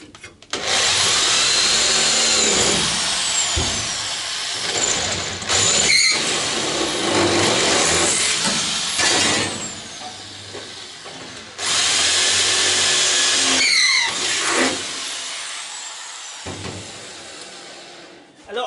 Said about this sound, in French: Et je leur perce tout de suite un trou de 6 à cet endroit-là.